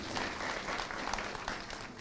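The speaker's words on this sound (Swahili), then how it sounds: "Tumpe makofi." Steady applause from an audience at a county governor's swearing-in ceremony in Kenya, a dense continuous patter of many hands holding at an even level for two seconds.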